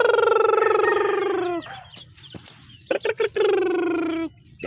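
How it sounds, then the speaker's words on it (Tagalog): Many chickens in a garden cluck, and roosters give loud, close crows, with two long crowing calls separated by a burst of sharp clucks. "Yan, ang daming manok guys."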